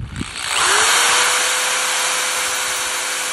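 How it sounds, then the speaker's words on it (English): A power drill bores holes in a plastic soda bottle for a bird feeder, revving up quickly into a loud, steady high whine that holds for about three seconds. "Okay, it's time to drill holes now."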